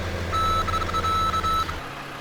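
Truck reversing alarm in Farming Simulator 2017, a steady series of rapid electronic beeps over a low engine hum, then stopping near the end.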